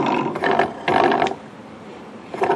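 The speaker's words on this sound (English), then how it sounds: "They're all here and they rotate well enough." The wheels of a Norelco DuoView PA-2A tape recorder are turned by hand, producing three short bursts of ratcheting, clicking mechanical noise with brief pauses between, close and fairly loud.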